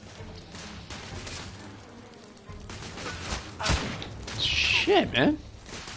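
In The Order: 1886, a gun is blind-fired from cover, giving scattered thumping shots and crashes under a player's muttered talk, followed by a louder burst of impacts and a high whistling effect.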